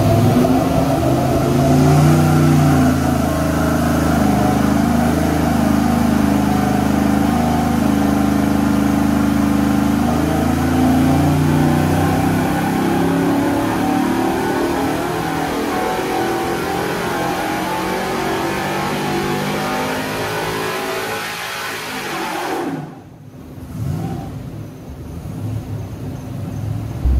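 A car engine fitted with a carburetor on a junkyard M90 supercharger runs loudly and steadily, with a few revs near the start, before it cuts off abruptly near the end and briefly catches again.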